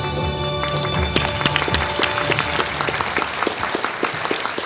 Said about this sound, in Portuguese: Recebam com muitos aplausos